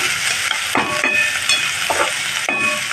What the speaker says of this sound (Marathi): कांदा मिरची छान हलवून घ्यायचं